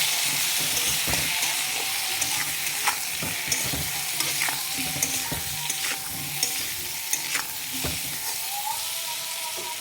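Salt, turmeric and cumin sauté in a hot pan with a steady sizzle, while a utensil scrapes and stirs in repeated sharp clicks throughout, close and fairly loud with no talking.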